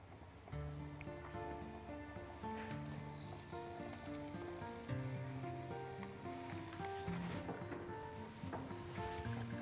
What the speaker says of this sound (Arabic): هي هنا اهي ابتدى الزيت يسخن، هنحط بقى البطاطس بتاعتنا كده تتحمر.